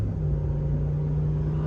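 Ram 1500 pickup with a 5.7 liter Hemi V8, aftermarket exhaust and air suspension cruising on a highway: a steady, close low drone and rumble at constant speed, with no voices.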